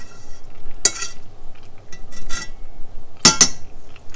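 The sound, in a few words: stirring garlic in butter in a pan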